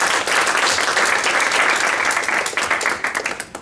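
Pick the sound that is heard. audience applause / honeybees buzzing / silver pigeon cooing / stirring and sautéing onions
audience applause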